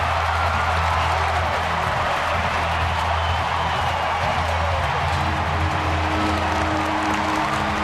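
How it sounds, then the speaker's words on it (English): An Easter baseball crowd roars at Atlanta versus San Francisco, a dense, loud, sustained wash of cheering and applause filling the ballpark throughout. "this Easter crowd is having a ball. Well, they've been waiting 3 days to let out a cheer like this one"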